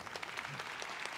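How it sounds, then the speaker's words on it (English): Pro wrestling arena crowd reacting with a faint, distant wash of applause and murmuring noise, brief and even. "The crowd respond to Kenoh getting out of there"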